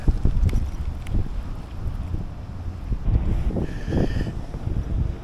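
Strong wind buffets the microphone on a river, rumbling in heavy, uneven gusts that roar close for the whole stretch.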